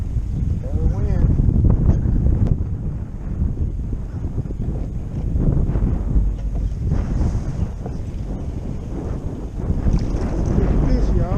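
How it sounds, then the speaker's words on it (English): Strong wind buffets the microphone out on open water during a fishing trip, with a constant low roar and gusty rumble over lapping water while people talk on the boat. "There's the wind."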